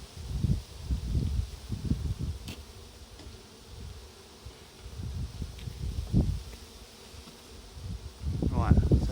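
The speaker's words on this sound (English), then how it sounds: "Bees on there." Honeybees buzz at an opened hive, with a low, steady hum rising and falling close by and handling noises and faint movement mixed in.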